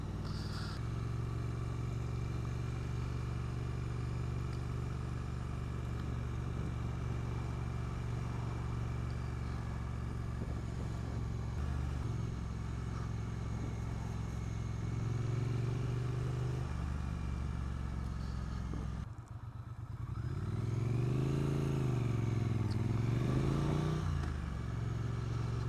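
A Triumph Street Twin 900 motorcycle is ridden, its engine holding a steady mid-range drone that rises in pitch near the end as it accelerates, with wind and road noise around it.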